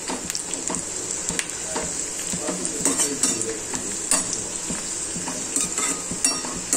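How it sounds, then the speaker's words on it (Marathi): Onion fries in a pan toward golden brown, a dense close sizzle broken by repeated scraping stirs and small utensil clicks, no talking. "अगदी 1 मिनिटाच्या आत कांदा फ्राय होतो, गोल्डन ब्राउन होतो।"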